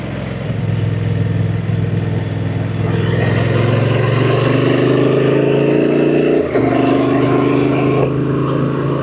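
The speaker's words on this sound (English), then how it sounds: "The sound is absolutely amazing on this bike." A 2024 Honda Transalp motorcycle engine while riding on a cool morning: a loud, continuous drone that rises gradually in pitch, with a brief dip near the end and wind rushing throughout.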